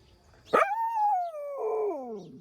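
A dog lets out a single drawn-out howl on command, starting with a sharp yelp and sliding into a sustained, wavering tone that falls in pitch, loud and close in a quiet room.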